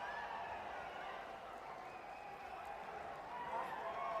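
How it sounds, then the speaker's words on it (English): A crowd applauds at the Abu Dhabi World Masters Jiu-Jitsu Championship 2021, a steady, distant wash of clapping and murmur that stays fairly soft throughout. "the crowd give a big round of applause for Renato and Neto."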